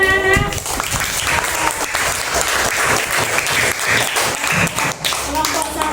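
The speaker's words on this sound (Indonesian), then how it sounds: "sekarang coba tepuk tangan anak-anak" A group of schoolchildren in a classroom clap their hands together, loud and close, a busy uneven patter of small hands with some voices mixed in, trailing off near the end.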